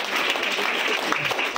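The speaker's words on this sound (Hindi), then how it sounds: "जोरदार तालियां।" A crowd at an award ceremony in Raipur claps loudly and densely in a continuous burst, with a voice faintly mixed in.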